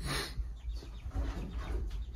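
Chickens clucking softly nearby, a few short scattered calls over a low rumbling background.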